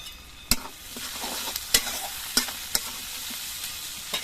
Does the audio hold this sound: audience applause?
no